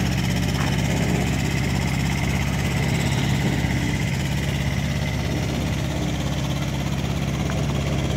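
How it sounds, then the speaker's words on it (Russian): A motorcycle rides nearby outdoors, its engine a steady, continuous mid-pitched drone that holds at an even level throughout, with no voices over it. "Видите, тут еще и мотоцикл ездит."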